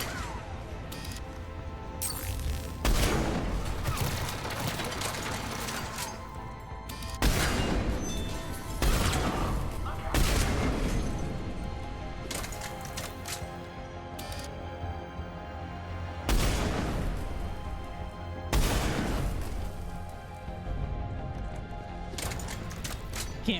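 Sci-fi video game battle with turret gunfire, made up of loud crashing bursts and rapid volleys of shots that recur every few seconds over a continuous rumble of combat.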